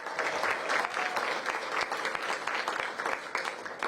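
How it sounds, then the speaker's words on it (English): An outdoor audience applauds artists at the unveiling of a free public art exhibit on Connecticut Avenue, a steady, dense wash of many hands clapping close by for the full stretch. "Give them a big round of applause."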